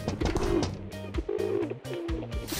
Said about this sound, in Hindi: मैंने खिड़की पर कबूतरों की आवाज सुनी